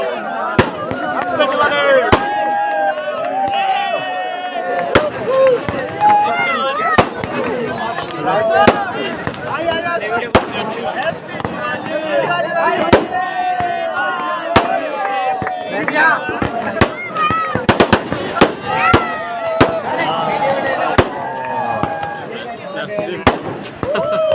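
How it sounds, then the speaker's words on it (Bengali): Firecrackers and fireworks going off at an evening program, sharp loud bangs and pops repeating irregularly throughout, with people talking and a crowd murmuring in between. "দেখেন কীরকম বম ফুটে, এই দেখো শুরু হয়েছে।"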